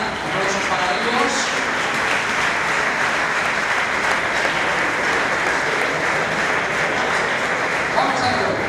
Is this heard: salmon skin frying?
no